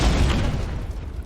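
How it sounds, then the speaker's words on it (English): A grenade blast in the turn-based tactical RPG Chains of Freedom: a loud, deep boom at the start, decaying into a rumbling tail. "Throwing a grenade."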